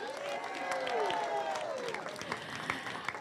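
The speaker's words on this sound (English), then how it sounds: "so let's clap your hands." Audience applause at a high school ribbon cutting ceremony, steady clapping from a crowd lasting the whole moment, with cheering voices mixed in.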